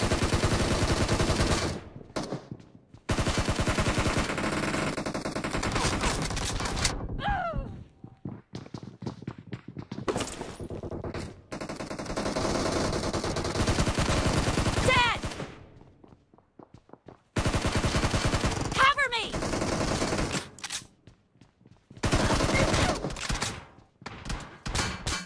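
Gunfire in the mobile battle royale game BGMI (PUBG), with repeated loud bursts of automatic shots separated by short pauses, under occasional player voices.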